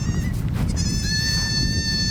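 Several goats, including kids, bleat repeatedly on a farm, their wavering calls overlapping near and loud above a steady low rumble of background noise.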